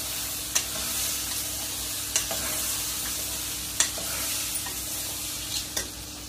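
Ingredients for tomato rice roasting in a pan, a continuous soft sizzle broken by a few light scrapes and taps of a spoon as it is stirred, close and without voices.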